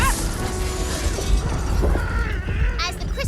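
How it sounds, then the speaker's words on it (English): A crystal shattering in Tiny Tina's Wonderlands, a loud glassy crash and tinkling debris followed by rumbling and mechanical shaking, with game voices talking over parts of it. "As the crystal shatters, the entire pyramid begins to shake"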